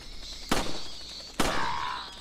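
Two sharp, loud gunshots about a second apart in the video game Resident Evil 4, each with a short ringing tail over a quiet background.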